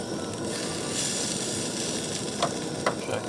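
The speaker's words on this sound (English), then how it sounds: "Sizzling, dude." Chorizo frying in a pan over an outdoor campfire while truck camping by a lake, giving a steady close hiss and crackle with a couple of sharper pops near the end.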